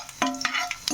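Torn dried red chillies, cumin and mustard seeds fry in hot oil for a tempering, a brief close crackle with sharp pops over a steady sizzle.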